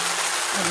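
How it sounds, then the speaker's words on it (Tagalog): Steady rain falls outdoors in a brief, even, broadband hiss that stays loud and unbroken. "Ulan na."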